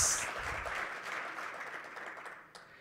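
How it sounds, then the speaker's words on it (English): Faint, scattered applause from one corner of a conference hall, a brief patter of clapping that thins out and fades toward the end. "Is that a round of applause from that corner?"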